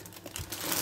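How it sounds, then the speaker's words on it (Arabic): Crinkly plastic bag of ready-made Om Ali pastry sweets torn open in a home kitchen, a brief close rustle and crackle of wrapper alone. "فتحنا الكيس"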